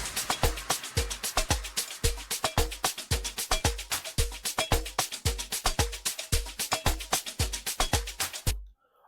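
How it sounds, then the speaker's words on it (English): Amapiano drum loops layered together, a steady punchy pattern of kicks, claps and percussion hits repeating evenly for several bars, loud and dry before cutting off abruptly at the end. "And drums together, they sound like this."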